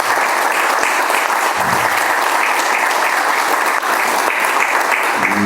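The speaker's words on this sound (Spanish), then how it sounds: "Vamos a aplaudirlo a José Luis." A room full of people claps for a guest at a university radio podcasting session, loud, dense and continuous applause at close range with no talking over it.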